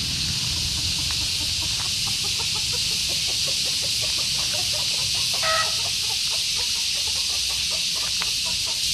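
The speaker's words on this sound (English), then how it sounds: "Wild chickens." Wild chickens cluck in quick, scattered bursts over a constant loud hiss of insects in a remote Bali jungle. The birds sound moderately close and keep chattering throughout.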